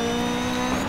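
A DiRT 3 rally car slides through a corner on loose gravel, its engine holding a steady, droning note close up with a faint rising whine, and nobody speaking.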